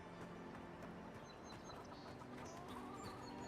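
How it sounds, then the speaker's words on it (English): Chickens clucking in the fantasy video game Avowed, a steady ambient scene with several birds giving short clucks over a constant background bed, with no talk. "Got some chickens here."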